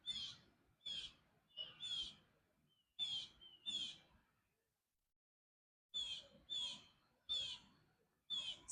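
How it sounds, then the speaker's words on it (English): Outdoors, a bird gives repeated sharp, high calls in short bursts of two or three, with a pause of about two seconds midway, faint and fairly close against a quiet background. "You hear that bird talking?"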